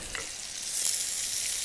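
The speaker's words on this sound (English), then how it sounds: "You feel it go in. It's sizzling," Soft frying sizzle of pancetta-wrapped monkfish in a pan over gentle heat, a gentle hiss that swells slightly and holds steady, close by.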